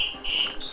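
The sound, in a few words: alarm in the video game Assassin's Creed Rogue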